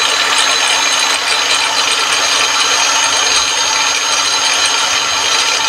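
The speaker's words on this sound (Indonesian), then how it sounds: "buat abang-abang poles ini kita kunci trigger dulu ya. Oke, kita tes RPM." An APR AP91 polisher runs with its trigger locked at about 5,100 RPM, giving a steady, loud, unbroken motor whine for the whole stretch with no talk.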